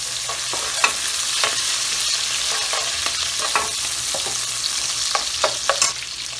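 Chicken 65 fries with green onions in a hot pan: a loud, continuous close sizzle broken by scraping stirs and small crackles, with nobody talking.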